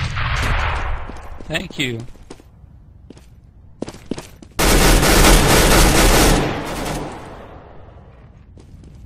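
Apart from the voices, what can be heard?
gunshots from the video game Counter-Strike: Global Offensive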